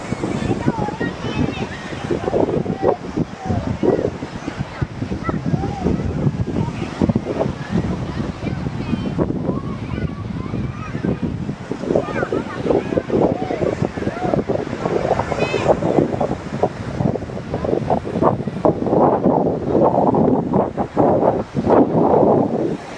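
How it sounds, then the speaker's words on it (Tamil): Strong waves surging onto Kankesanthurai beach in Jaffna, a steady loud roar of surf and wind buffeting the microphone throughout, with voices talking over it. "கடல் அலையும் வந்து அது வேகமாக இருக்குது பாருங்கள்"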